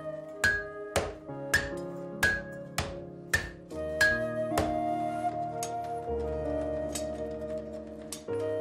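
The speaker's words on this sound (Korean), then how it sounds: "방자 유기는 불과 망치질로 완성되는 그릇이다." Hand hammers strike bronze Bangjja Yugi, traditional Korean forged brassware, in a steady close-up rhythm of ringing metallic blows, each leaving a bright resonant tone that carries into the next.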